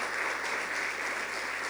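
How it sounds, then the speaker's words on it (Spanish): A church congregation applauds during a Sunday service, a dense, continuous wash of clapping heard at moderate level without pause. "Denle un fuerte aplauso al Señor."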